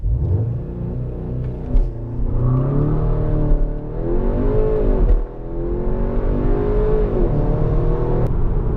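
Interior of a Skoda Octavia RS 245 at full throttle from a brake-held launch: the engine drone climbs steadily in pitch through the gears, with short dips at each shift, loud and close, with no talking.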